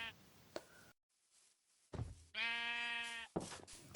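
Sheep in a Minecraft-style survival game bleat once in a clear, loud, wavering call lasting about a second, between short game thumps and a moment of silence.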